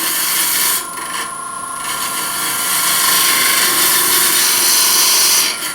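A woodturning gouge cuts a wooden ring box lid spinning on a lathe, a loud steady scraping hiss with a brief dip near the start, continuous and close with no talk.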